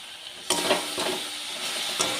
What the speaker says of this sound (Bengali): নাড়াচাড়া করে ভালোভাবে পাক করে নিচ্ছি।